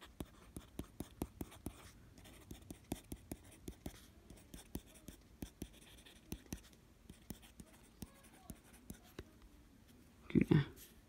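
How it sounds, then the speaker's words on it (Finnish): A reMarkable tablet pen writing on the screen, soft scratchy strokes and taps repeating in an irregular rhythm, close and quiet, with a louder knock near the end. "ehkä kuulet myös, että tämä kynä pitää suhinaa"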